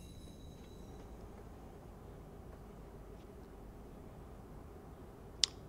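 A moving train in the game Watch Dogs gives a steady, low rumble of rolling cars with faint high wheel squeals and one sharp click near the end, quiet and continuous, with no talking.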